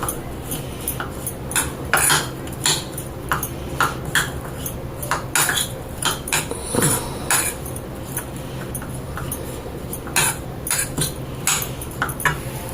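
Taco filling with oregano being mixed in a bowl, a spoon clinking and scraping against the sides in a quick, irregular rhythm of sharp taps, close and fairly loud, with no talk.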